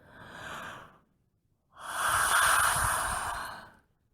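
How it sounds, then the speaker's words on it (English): One person yawns wide in a quiet room, giving a short breathy exhale and then a longer, fuller, open-mouthed yawn that swells and fades. "as you open your mouth for a big, wide yawn"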